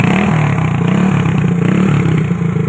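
A motorcycle engine revs repeatedly, close and loud, while being checked for smoke from its engine breather, the pitch rising and falling in short bursts over a steady mechanical clatter.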